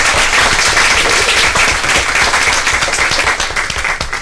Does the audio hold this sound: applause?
yes